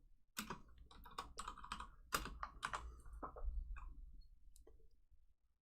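Rapid clacking of keys on a computer keyboard, bursts of close, crisp keystrokes with brief pauses, heard alone with no talking.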